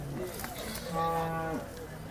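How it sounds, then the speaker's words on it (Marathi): A single cow at a cattle market lets out a drawn-out, close moo, rising and then falling in pitch, over soft background noise. "शेतकऱ्याजवळची गाय आहे"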